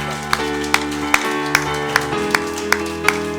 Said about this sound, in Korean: 하나님께 영광의 박수 한번 해주시다